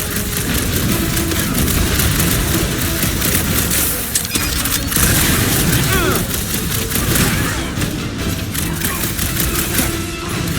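Smart bomb explosions in the Guardians of the Galaxy video game, a dense, loud run of booms and rapid gunfire-like bursts layered over game music and effects, with voices talking throughout.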